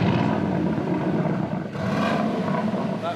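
A brand-new Aston Martin Vantage engine gives a steady, full-bodied rumble with a slight dip and swell in the middle. It runs alone, with no talk over it.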